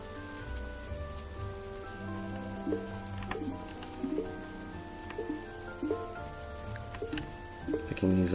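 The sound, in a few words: rain falling in Grimshire video game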